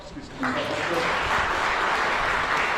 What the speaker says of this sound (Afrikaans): Ons gee net vir hulle nog 'n hande klap.